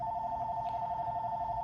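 A telephone rings indoors with a steady, unbroken electronic tone that holds at an even level for under two seconds, with low room noise beneath and no speech.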